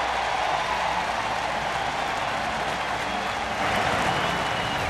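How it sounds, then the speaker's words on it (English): Baseball crowd at Kauffman Stadium cheering a two-strike, two-out strikeout, a dense, steady roar of cheers and applause that swells slightly near the end. "2 strikes, 2 outs, the fans cheering on a strikeout, and Zach comes through."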